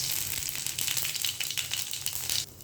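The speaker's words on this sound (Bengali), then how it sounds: "পাঁচফোড়ন দিব তেলে।" Panch phoron seeds crackle and sizzle in hot oil in a pan, a busy close-up spattering with quick pops that drops off abruptly near the end.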